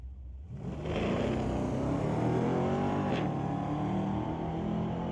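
A 1968 Cougar and a Pontiac Ventura launch side by side at a street-legal drag race at Mission Raceway Park, engines roaring up from a low idle into a loud sustained acceleration that climbs through the gears.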